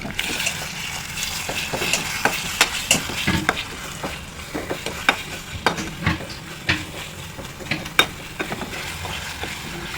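Fish curry masala frying in a pan while being stirred, a continuous sizzle with repeated scraping strokes and small clicks of the spoon against the pan, close up and with no talking.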